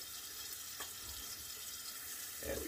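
Bathroom tap running while rinsing during a shave, a quiet, steady hiss of flowing water with a slightly louder splash at the end.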